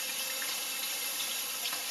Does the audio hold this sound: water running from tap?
yes